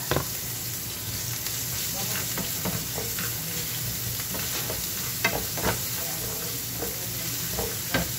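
Minced garlic sizzles steadily in a hot pan, a continuous bright frying hiss with occasional stirring scrapes and pops, close and fairly loud, with no talking.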